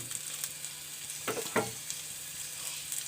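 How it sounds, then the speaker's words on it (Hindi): Salt-water-boiled chicken lightly frying with garlic in a pan, a faint steady sizzle broken by a couple of quick stirring clinks, close up with no voices. "थोड़ा सा लहसुन डाल के इसको बस हल्का सा फ्राई करेंगे"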